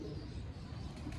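Pigeons cooing in a flock of thirty to thirty-five birds, soft low coos murmuring continuously at close range, faint and unbroken with no speech.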